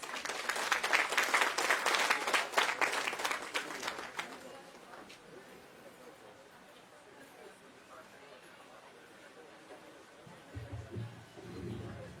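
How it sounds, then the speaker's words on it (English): Audience applause at an Independence Day of India celebration, welcoming a dance performance: dense clapping fills the first four seconds and then fades into low crowd murmur, with a soft low rumble near the end. "Let's welcome little Priyanshu with a big round of applause, please"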